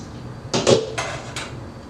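Cooking pots clank and rattle as they are picked up and set down in a home kitchen, a few sharp metallic knocks close by over a quiet room hum.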